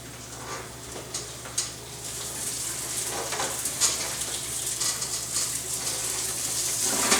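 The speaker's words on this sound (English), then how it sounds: "We're going to throw them in with the pan with the filet." Shrimp cooking in a pan alongside a filet, giving a steady broadband sizzle with faint crackles and small ticks that build slightly louder over time, heard alone without voices.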